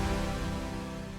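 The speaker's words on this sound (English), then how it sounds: "I just gonna go couple octaves down and sounds like this." A Super Saw synthesizer patch, dropped a couple of octaves lower, gives a thick, buzzy sustained tone that sounds alone and fades slightly over just over a second.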